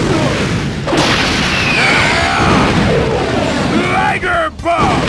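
Raikage's Liger Bomb attack in a Naruto Shippuden video game, a heavy booming explosion burst with crashing debris and sweeping whooshes, loud and sustained with a second impact near the end.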